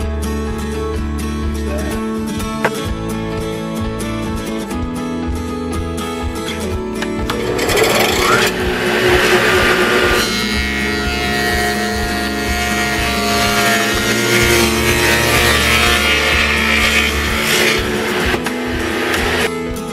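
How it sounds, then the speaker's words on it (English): Radial arm saw fitted with a dado blade cutting angled wood pieces for a home media shelf, a loud continuous machine drone with the blade biting harder midway, steady throughout without talk. "I don't really like cutting angles like this on the radio arm saw with the dado blade in it"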